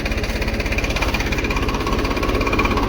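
A loud, close tractor diesel engine chugs steadily with a fast rhythmic throb and rattling vibration, running continuously.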